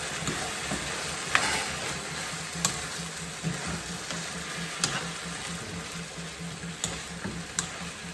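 Noodles and vegetables stir-fry in a pan, an even sizzling hiss broken by periodic clacks and scrapes of a utensil tossing them, close and without talking.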